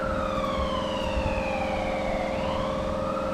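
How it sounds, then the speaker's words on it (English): An ambulance siren wails steadily, its pitch sweeping and dipping as it passes along a road at moderate distance, over a constant low rumble of traffic or engine noise. "There goes Ambulance."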